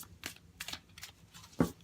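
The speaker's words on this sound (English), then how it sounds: "I just shuffle." Tarot cards shuffled by hand during a reading, a few quick, soft riffling bursts close up, with a sharper slap of the deck near the end.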